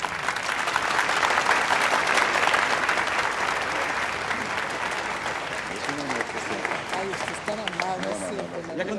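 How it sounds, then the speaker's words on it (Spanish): Loud crowd applause greets a governor and first lady at an evening show in Villafuerte, many hands clapping steadily at first, then thinning and fading as a voice starts to talk over the tail. "Por favor, un aplauso."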